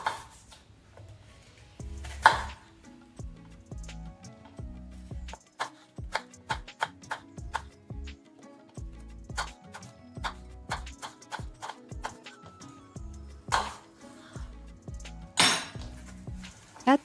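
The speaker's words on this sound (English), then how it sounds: "chop the apple into fine cubes" A knife chops an apple into fine cubes on a board, giving sparse, irregular sharp taps and clicks with quiet gaps between them, close and fairly soft.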